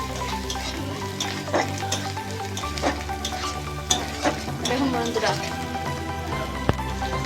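Green chili and chili powder frying in hot oil for a snail curry, a steady loud sizzle with occasional stirring scrapes and clinks, while a person talks throughout.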